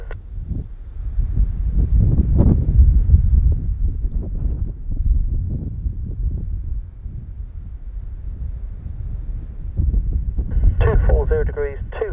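Strong gusting wind from Storm Dudley buffets the microphone at Bristol airport, heavy low rumbling surges rising and falling throughout, with faint radio chatter near the end.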